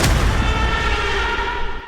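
A heavy blast from an Israeli strike on Beirut, Lebanon, opens loud and sudden, then rolls into a long rumbling decay that fades over nearly two seconds with no voices.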